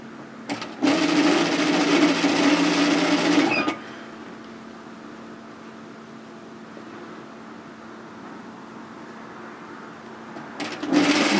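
A sewing machine stitches knit tee fabric in a short close burst of rapid whirring lasting about three seconds, then goes quiet with a low background hum, and a brief second burst starts near the end.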